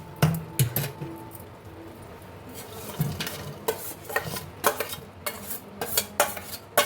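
A utensil stirs fried pieces through thick gravy in a pan. Close, irregular metallic scrapes and clinks sit over a faint sizzle.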